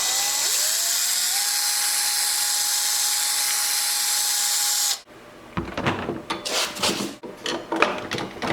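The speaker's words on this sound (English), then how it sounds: "I'm gonna have to, I think, drill them out a little bit" A power drill whines steadily at high speed for about five seconds while drilling out thin wheel parts for a toy police motorcycle, then stops, followed by scraping, rubbing and handling noises.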